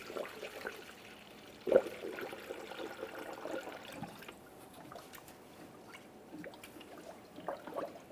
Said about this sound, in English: Remove the stopper and add coolant.